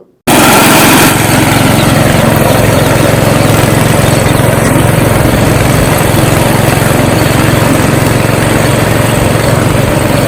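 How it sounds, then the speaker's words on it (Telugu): A newly built agricultural mini tractor's small engine runs loud and steady from start to finish, a constant close-up drone with no pauses. "చిన్న ట్రాక్టర్ లెక్క తయారు చేసిండ్రు"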